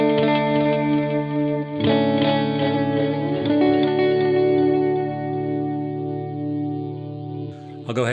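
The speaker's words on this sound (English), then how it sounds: "I went ahead and turned the effect level and the feedback level way up so you can hear exactly what it's doing" An electric guitar runs through a delay pedal with effect level and feedback turned way up, sustained chords smearing into dense, repeating echoes that stack and wash together, loud and continuous with a fresh strum partway through.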